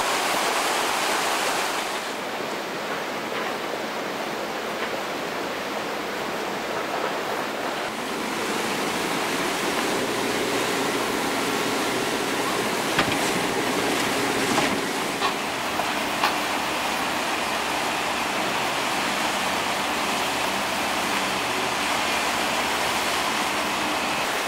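Floodwater rushes loudly during a severe August storm in the Hasli valley, a steady, dense roar continuing without break and close by, with no voices over it.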